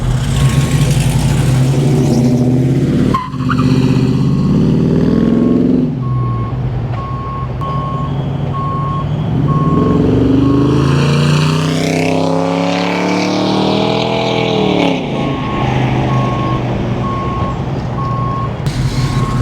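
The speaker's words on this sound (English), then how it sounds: "I'll do a quick flyby" A 1964 Pontiac GTO with an LS engine swap makes a flyby. The engine note builds loudly, revs up and down as it approaches and passes close, and stays as a sustained roar in a continuous, powerful exhaust sound.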